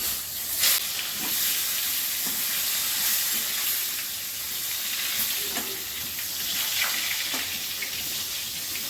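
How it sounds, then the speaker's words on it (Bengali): Eggplant pieces frying in hot oil in a pan, a steady bright sizzle with occasional pops and stirring clicks, close and continuous with no voices. "আমি বেগুনগুলো ভেজে নিচ্ছি।"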